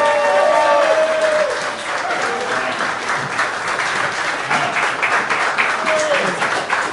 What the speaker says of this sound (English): So please, let's give a very warm round of applause to Mr. Mike Cherwenka.